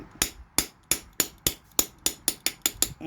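About eleven sharp hammer taps strike at a steady rhythm, close and crisp, as a motorcycle fork oil seal is driven into place, with no talking.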